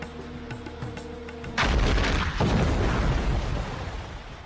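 A medieval cannon fires a stone ball: after a thin insect-like buzz, a sudden loud, broad boom erupts and rolls on as a rough, rumbling roar that slowly fades.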